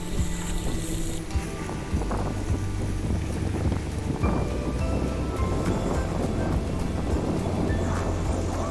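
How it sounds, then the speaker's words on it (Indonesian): Strong wind buffets the microphone at a plastic-lined shrimp pond during the dry season, a loud, constant low rumble with rough gusty thumps that continues the whole time. "Angin ini kencang sekali sehingga suara ini terganggu."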